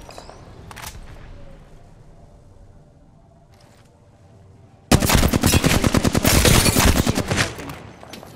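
Rapid automatic gunfire in the shooter game Apex Legends, a loud sustained burst of closely spaced shots lasting about three seconds after a quieter stretch with faint clicks.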